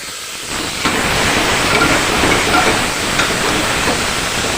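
Cumin, onion, garlic and ginger hit hot oil with a loud, broad, hissing sizzle that starts suddenly and holds steady and close for several seconds, with no talking.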